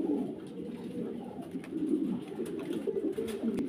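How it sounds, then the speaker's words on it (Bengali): A pair of domestic pigeons kept with eggs and a chick coo close by, with low, throaty rolling calls repeating continuously in an overlapping rhythm. "দেখেন তো এখানে এক পেয়ার কবুতর,"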